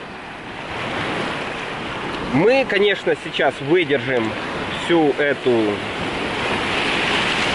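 Strong sea waves surge and break on the shore at Antalya, Turkey, in May, a steady roar mixed with wind buffeting the microphone, while someone talks over it for several seconds.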